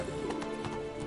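Horse hooves clop in The Witcher 3 video game as the horse is ridden, a short quick run of muffled hoofbeats over a dense game soundtrack, with no talking.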